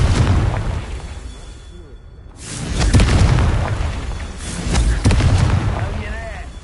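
Confringo fire spell blasts in Hogwarts Legacy, deep rumbling booms that swell and fade in two heavy waves, with game sounds and a voice faintly underneath.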